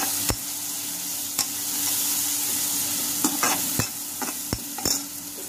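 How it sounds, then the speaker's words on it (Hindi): Garlic and green chilli paste fries with onions in a pan and sizzles steadily. A spoon stirs it, making sharp scrapes and clacks at uneven intervals, all close up with no talking. "अब इसमें हम अपने जो लहसुन और हरी मिर्च का दरदरा सा पेस्ट था उसे डाल दें और इसे थोड़ा चला लें।"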